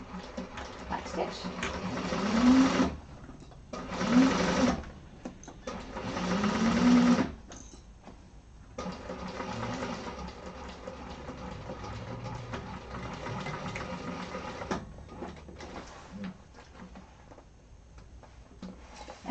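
A sewing machine stitches across a bag lining in several bursts of rapid, steady whirring, loud and close, separated by pauses, with a person talking between the runs.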